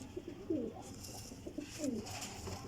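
Teddy Golden pigeons coo softly in short rising and falling calls, a few separate coos over a faint, steady background hiss.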